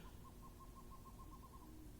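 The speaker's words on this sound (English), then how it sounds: "It's one or two, maybe even three horned owls." A great horned owl hooting at night: a faint, distant series of soft, evenly spaced low hoots over a steady background hiss.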